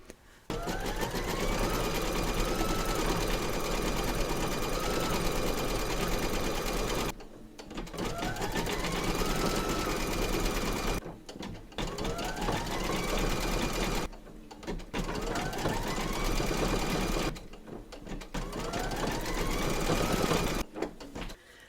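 Embroidery sewing machine stitching a cushion block in a hoop with black bobbin thread, running in long loud steady bursts broken by short pauses.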